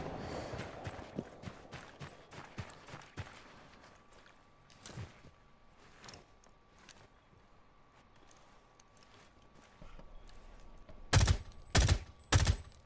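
Gunfire in the Rainbow Six Siege video game: sparse sharp shots and clicks over a quiet background, ending with a few loud, close bursts of rapid fire.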